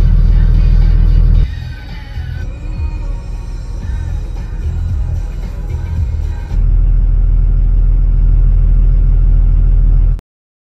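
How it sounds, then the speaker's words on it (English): Low, steady rumble of engines and road noise while stuck in a traffic jam, heard from inside a vehicle, with a loud broadband drone that dips in the middle and cuts off abruptly at the end. "we're stuck in a traffic jam"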